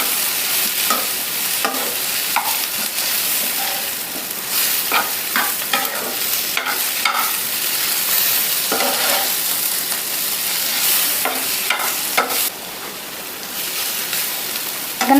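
Mint and coriander leaves stir-fried in a pan for broiler chicken sambar: a continuous crackling sizzle with frequent scraping strokes of a spatula, loud and close throughout, without speech.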